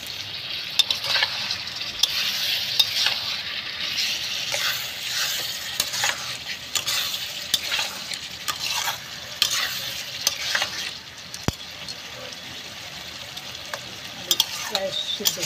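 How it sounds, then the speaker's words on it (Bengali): Spice paste cooking down with water in a pan for a spicy tengra fish curry, a steady bright sizzle throughout with frequent close stirring scrapes and occasional sharp clicks. "জল দিয়ে মশলাটাকে ভালো করে কষিয়ে নেব"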